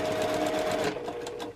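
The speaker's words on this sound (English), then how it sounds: "just sew right through this center section" Sewing machine stitching straight through the center of a quilt block, a steady close mechanical whir that slows and breaks into a few separate needle strokes at the end.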